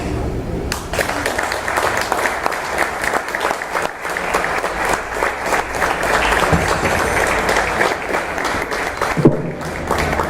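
Loud, sustained audience applause fills a gathering at a Tertulia Santanista cultural event, a dense, steady roar of clapping lasting the full ten seconds without letup.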